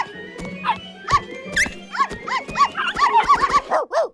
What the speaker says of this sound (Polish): Szczeniaki!